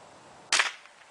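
A single sharp crack from a Ruger 10/22 .22 LR rifle fired at a long-range bullet trap, brief and bright, with a short fading tail after the shot.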